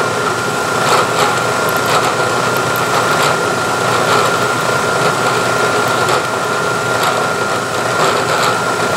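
A power drill with a clearance drill bores a hole, giving a steady high motor whine with grinding cutting noise throughout, no talk.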